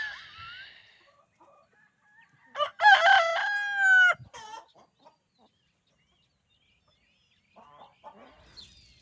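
A single rooster crows loudly nearby, followed by quieter clucking from chickens in an otherwise calm, quiet setting.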